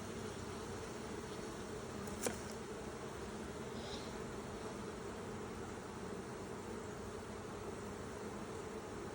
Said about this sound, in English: We try to get as many of the bees out of the way as we can.